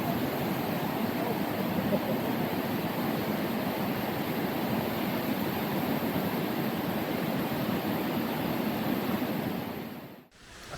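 A waterfall at Silver Falls, Oregon roars as a steady, dense rush of falling water, loud and unbroken for about ten seconds before it briefly cuts out at the very end. No voices are heard.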